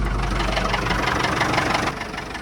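Ford tractor fitted with a loader and chunky tyres, its engine idling in a farmyard with a steady close chugging rumble that drops slightly near the end, no talk.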